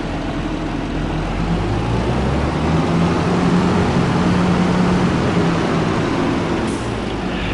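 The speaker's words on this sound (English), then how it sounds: "This is one loud tractor, ain't it?" A tractor engine in the video game Farming Simulator 25 roars loud and steady, with a heavy low rumble that holds throughout and no talking.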